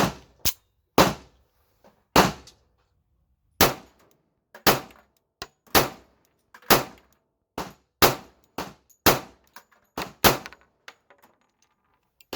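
A Tisas Bantam pistol fed from a Kimber magazine fires about fifteen close, sharp shots at an outdoor range, in an uneven rhythm with short pauses, each report ringing briefly.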